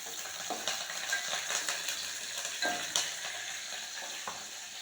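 Curry leaves hit hot oil in a pan and sizzle and crackle loudly and close by, with stirring and a few sharper pops. Nobody talks.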